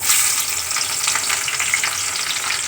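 Onions sizzle in a hot pan for egg tarka, a steady bright crackle with some stirring, close and continuous without any talk.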